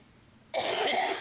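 A single harsh cough bursts in after a short quiet stretch, close and loud, with a rough, throaty tail.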